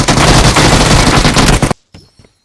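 Sustained automatic gunfire from the video game PUBG, a loud, dense burst of rapid shots lasting nearly two seconds that cuts off abruptly, followed by a few faint, scattered sounds.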